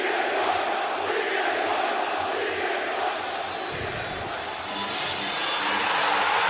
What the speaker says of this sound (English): Listen to this crowd in Chicago.